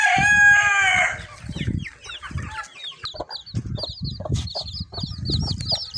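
Chickens of crossbred breeds, a rooster crowing loudly at the start, then high peeping chicks and clucking hens in a rapid, busy chorus, close by with no talking.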